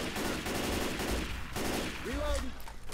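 Rapid gunfire in the video game Left 4 Dead 2, a steady stream of shots in the foreground with faint game cries mixed in.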